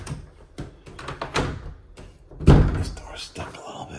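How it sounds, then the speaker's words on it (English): A sticking interior door in a newly built custom home, probably the hot water heater closet, is forced open with a heavy thunk and scraping mid-clip amid a person's ongoing talk. "This door's stuck a little bit."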